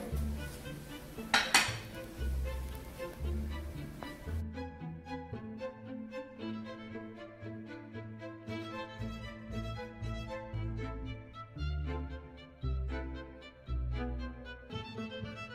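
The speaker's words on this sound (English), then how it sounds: "I'm gonna mash the potato." Boiled potato is mashed with salt, milk and butter in a bowl, giving close, irregular clinks and scrapes of a utensil against the dish in uneven bursts.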